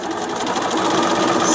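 A sewing machine stitches a paper-pieced quilt block in a steady, fast mechanical whir of rapid needle strokes, close and continuous for the whole moment.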